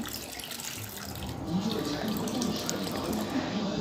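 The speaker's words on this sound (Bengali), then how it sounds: "জল দিয়ে ভালো করে মুগ ডালটাকে ধুয়ে নিয়ে এবার সেদ্ধর জন্য এর মধ্যে জল দিয়ে দেব।" Water pours steadily into a pan of fried moong dal for a prawn dal, a continuous close gushing and splashing that swells slightly toward the end.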